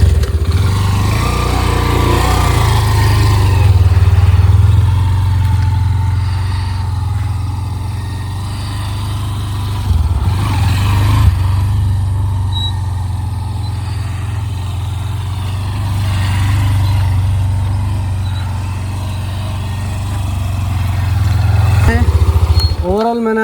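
An Xtreme 125R motorcycle ridden and leaned through tight turns: a steady low engine drone that swells and eases with the riding, while someone talks over it.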